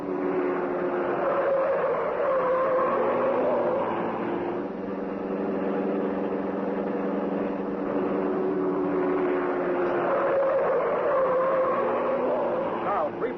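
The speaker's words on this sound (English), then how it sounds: "the car of the Green Hornet whipped through the city streets" The Green Hornet's car, Black Beauty, speeds through city streets with a sustained engine roar that rises and falls, a dip midway, heard as a vintage radio-drama effect with voices talking over it.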